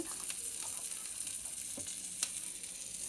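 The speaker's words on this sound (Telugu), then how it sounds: "పచ్చిమిరపకాయలు ఇవన్నీ బాగా నూనెలో వేయించుకొని సేమియాలను కూడా బాగా వేయించుకోవాలండి" Green chillies and vermicelli fry in hot oil in a pan for a masala vermicelli breakfast, giving a steady close sizzle with a few brief stirring scrapes and pops.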